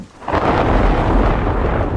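Thunder from a thunderstorm, a loud rolling rumble that swells in quickly after a brief quiet start and holds as a deep, sustained roar to the end.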